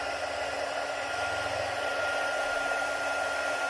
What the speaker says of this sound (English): and we get the heat gun